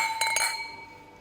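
Glasses clink together in a toast, two quick bright chimes close together with a ringing tail fading out, near and clear with no talking over them.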